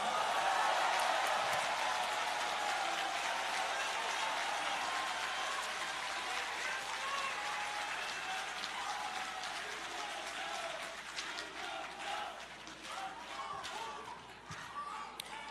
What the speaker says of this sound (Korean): 여기 우리 경남에 의원님들께 모두 박수를 쳐주십시오